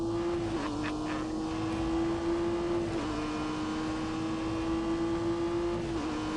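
A car engine holding full throttle in The Grand Tour Game, a steady sustained drone with brief dips at gear shifts, running continuously over a low rumbling background with no talk.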